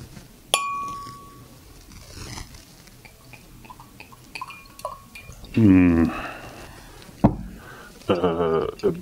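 Wine glasses of red wine clink together in a toast, a bright ping near the start followed by softer clinks, with people talking around it in a casual chat over cheese.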